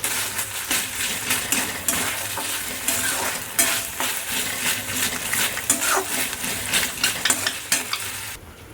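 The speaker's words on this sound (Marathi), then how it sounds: "मी थोडं शॅलो फ्राय करूया थोडंसं. आता त्यामध्ये थोडंसं जिंजर गार्लिक पेस्ट टाकूया." Shallow frying with ginger garlic paste in a pan, a loud continuous close sizzle with frequent spatula scrapes and clinks as it is stirred, no voices.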